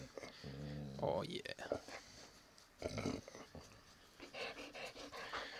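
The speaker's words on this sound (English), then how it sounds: "that's my dog getting ear scratchings" A pet dog, a female, pants and gives soft whimpers while getting her ears scratched, close by, with a person talking briefly over her.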